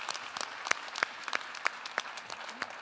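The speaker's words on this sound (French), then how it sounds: "si vous entendez quelqu'un applaudir, vous applaudissez avec cette personne" Sparse, sharp hand claps from a small audience in a hall, about a dozen distinct claps in an uneven rhythm, fairly faint, with quiet room noise between them.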